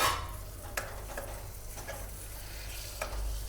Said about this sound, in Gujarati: હવે મિક્સ કરી લેવાનો મસાલાને બટેટા સાથે.